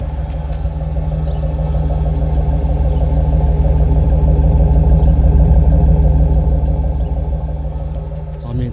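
A 1992 Chevy Camaro RS with new exhaust tips idles close by with a deep, steady rumble that swells slightly midway and holds constant throughout.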